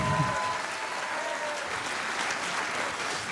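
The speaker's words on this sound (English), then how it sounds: "Give him a round of applause too." An audience at a health-themed public event claps for a provincial legislator, steady moderate applause that holds evenly throughout, heard from within the crowd with no speech over it.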